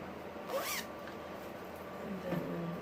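Zipper on a gray and white fabric bag with a white zipper and gray interior, heard as one quick close rasping pull early on and a fainter second zip near the end, over quiet room tone.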